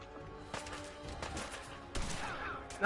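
Rifle gunfire in Fallout 4 crackles in a few quick sharp bursts, with a louder shot near the end, heard over quiet game ambience.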